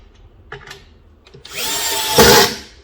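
After a few light knocks, a power drill whirs into cabinet boards for about a second and a half while driving a screw, rising to a loud, close peak before stopping.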